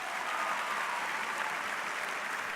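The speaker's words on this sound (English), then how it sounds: "So give yourself a round of applause." Graduates in caps and gowns applaud themselves at a high school graduation ceremony, a steady, even wash of many hands clapping throughout with no voices over it.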